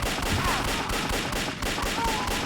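Dense video-game gunfire from the Xshot shooter rattles without pause, rapid overlapping shots at steady loudness throughout.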